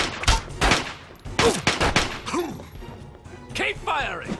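Fallout 3 gunfire bursting in a series of sharp, loud shots, several in quick succession, with a voice speaking between the shots.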